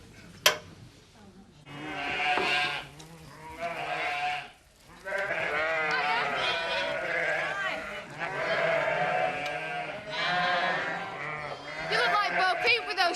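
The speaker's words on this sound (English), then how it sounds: "Sheep in that crop." Sheep bleating in a farm crop field, repeated wavering calls running through the scene beneath and between people talking.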